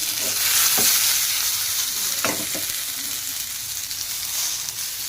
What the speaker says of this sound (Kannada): ಈ ಕಡೆ ಟೊಮೆಟೊನೇ ಸ್ಲೋ ಫ್ರೈ ಆಗ್ಯಾವ ರೀ